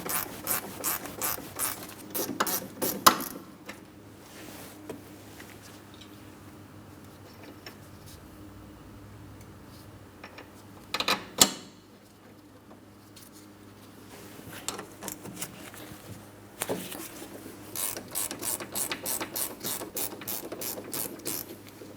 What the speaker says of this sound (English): Just going to use my 18mm ratcheting wrench.